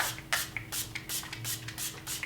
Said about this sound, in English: So I'm just going to spray a little bit of the Pixie Glow Mist.